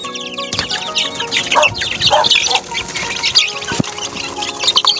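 A flock of 27-day-old young chickens clucking and cheeping close by, busy overlapping calls with a few sharp knocks, fairly loud throughout.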